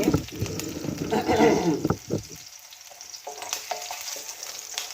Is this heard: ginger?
yes